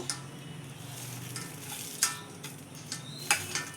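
Fried curry leaves, dried red chilies and peanuts being stirred into a pot of village-style dal, with a soft low sizzle, scraping stirs and a few sharp spoon taps against the pot, no talking.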